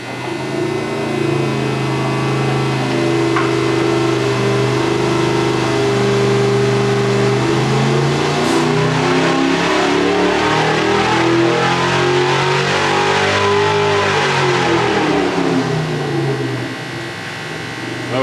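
A car engine runs a dyno pull during an oil filter pressure-differential test, giving a loud sustained drone that climbs steadily in pitch through the rev range, then falls away as it winds down near the end.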